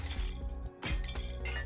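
Cartoonish smashing from a video game trailer as a hammer breaks things: bright clinks and glassy shattering hits in quick succession over a background music bed.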